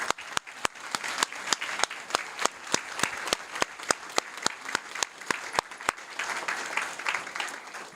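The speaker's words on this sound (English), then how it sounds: "please join me in congratulating these distinguished scholars with a well-deserved round of applause" A board-meeting audience claps for honored scholars, a moderately sized crowd producing rhythmic applause punctuated by sharp, close, loud individual claps that ease into looser clapping near the end.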